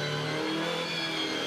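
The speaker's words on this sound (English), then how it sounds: "You just hear the way that Volvo's lighting up in a wheel spin in these wet conditions." A Volvo Supercars race car engine revs hard and high on a wet track at Sydney Olympic Park, wheels spinning with a whining, strained roar that holds steady for a moment.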